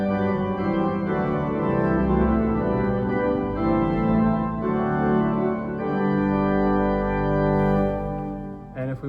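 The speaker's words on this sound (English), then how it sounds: "the chancel swell planum sounds like this" Chancel swell plenum of a pipe organ with the mixture stop drawn, a full sustained chord texture with bright upper ranks, held steadily and changing chords over several seconds, alone without voices.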